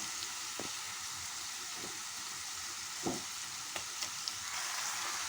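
Mixed vegetables fry with salt and turmeric for vegetable rice, making a soft continuous sizzling hiss with a few quiet knocks as they are stirred.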